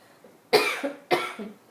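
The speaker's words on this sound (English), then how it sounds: "I'm really battling this cough." A person coughs twice indoors, each a sharp, close, raspy burst followed by a short trailing rasp, about half a second apart in an otherwise quiet room.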